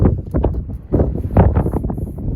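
Wind buffets an outdoor microphone beside a Hudson HDH 5 machine on a cold, stormy day, giving loud, continuous low rumbling gusts that fill the whole stretch.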